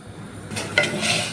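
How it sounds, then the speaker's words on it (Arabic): Vermicelli browning in oil in a pot: soft sizzling with a spoon stirring and scraping against the pot, a few metallic clinks, close and moderately loud, no talking. "حطينا الزيت والشعريه اهو. نحمرها سيبها تتحمر"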